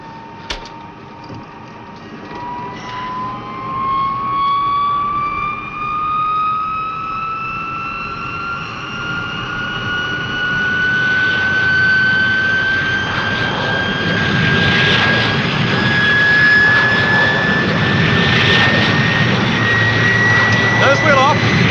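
A fixed-wing airliner taking off with its jet engines at full power, a loud rising roar with a climbing whine that builds steadily and swells toward the end, with no voices over it.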